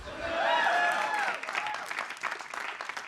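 An audience at a comedy roast breaks into loud applause and cheering that swells quickly, then thins into scattered clapping and crowd noise.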